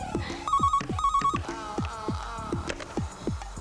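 A mobile phone rings in a Hindi film scene: two short electronic ring bursts near the start over a steady repeating rhythmic musical pattern, loud and close.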